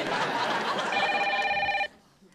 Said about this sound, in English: I can let a phone ring, can you?